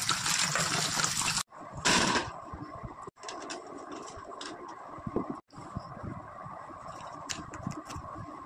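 Water runs and splashes while peeled produce is washed by hand, in a close, fairly soft flow broken by a few brief pauses and light handling noises.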